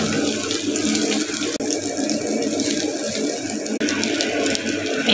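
Rice hits hot oil and garlic in a pan with a loud, continuous sizzle, steady and close, broken by two brief dips, with no talking over it.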